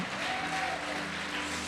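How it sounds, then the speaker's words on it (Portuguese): A church congregation applauds during a sermon, a steady wash of clapping from many hands that fills the room without pause. "Pode aplaudir Jesus e glorificar"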